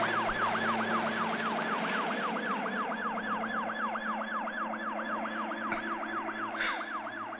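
A police siren wails, cycling rapidly up and down, loud and steady, with a faint engine rumble underneath and no voices.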